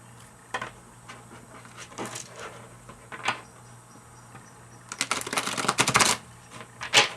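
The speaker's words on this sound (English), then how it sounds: "one more shuffle." A deck of tarot cards being shuffled by hand: scattered soft riffles and taps, then a denser, louder riffle near the end, close and alone with no talk.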